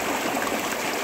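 Clear mountain stream running over stones, a steady, even wash of flowing water close by with no voices.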